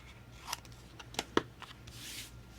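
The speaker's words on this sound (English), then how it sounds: "then you're just going to cut this off on both sides" Scissors snip through paper for a groom tux mini album page, a few sharp, close cuts spaced apart over a quiet background with faint hum and light handling rustle.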